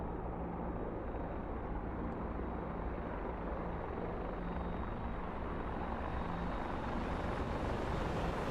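An Apache gunship helicopter at an air show makes a continuous, broad rotor and engine roar that stays steady and fairly distant throughout.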